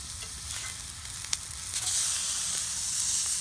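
Spencer steak just flipped and searing on a Mojoe griddle, a steady close sizzle and hiss of fat with a brief sharp pop partway through, no voices.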